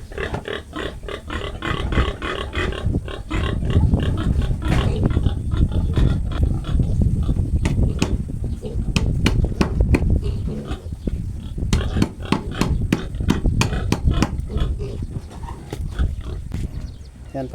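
Piglets squeal loudly and continuously while being caught and separated from their sow in a pen, with shrill repeated cries and grunts over the whole stretch and a voice talking in the background.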